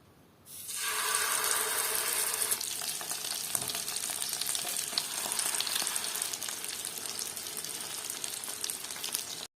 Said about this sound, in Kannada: Wow, mean fry ಅವನುಂಡು.